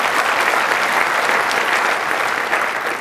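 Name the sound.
conference audience applause for sponsors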